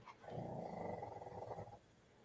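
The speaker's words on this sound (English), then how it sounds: "I hear a doggy." A dog in the background gives a low, drawn-out growl lasting about a second and a half, moderately loud, then fades into quiet room noise.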